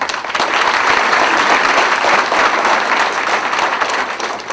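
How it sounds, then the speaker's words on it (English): An audience at a political celebration event breaks into steady, enthusiastic applause, a thick continuous patter of many hands clapping at close range that swells and then eases slightly. "You should applaud that."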